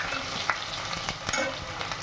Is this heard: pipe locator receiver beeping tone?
no